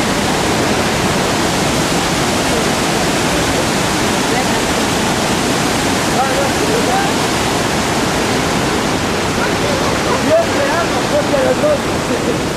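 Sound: waterfall

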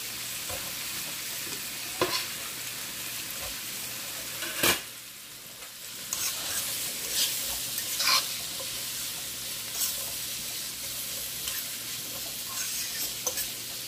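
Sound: onions sautéing in butter

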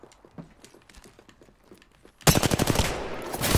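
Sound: gunfire in the video game Apex Legends

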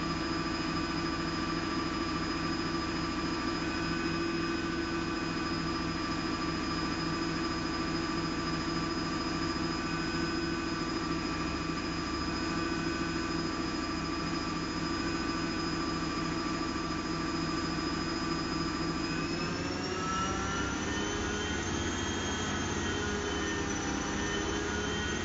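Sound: Servis or Zanussi washing machine spinning at 1000 RPM

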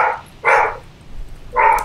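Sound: dog barking madly

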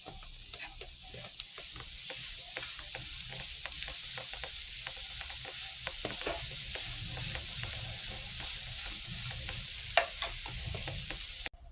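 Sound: stir-frying vegetables for thoran in a pan

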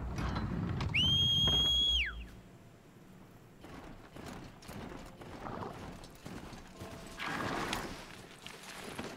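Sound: horse hooves clip-clopping in Horizon Zero Dawn video game

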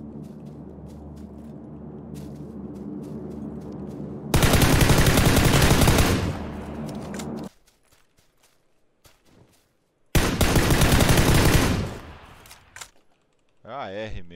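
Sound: AR assault rifle with compensator firing loudly in PUBG video game

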